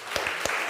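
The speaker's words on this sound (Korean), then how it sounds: "우리 다시 한번 축복의 박수 합시다." A church congregation claps together in a brief burst of applause, a couple of sharper claps standing out over the steady patter.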